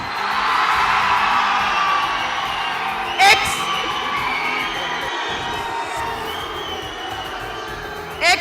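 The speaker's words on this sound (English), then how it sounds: "Samram boys, make some noise." Boys at a motivational event in Bengaluru cheering, whooping and shouting together as a crowd, a loud sustained roar with a couple of sharp bursts standing out near the middle and end.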